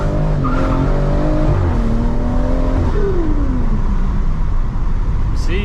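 Stage 3 tuned BMW M140i pulling hard in first gear, loud engine note rising in pitch with a gearshift-like drop and climb again, tyres faintly squealing, close and continuous with no talk.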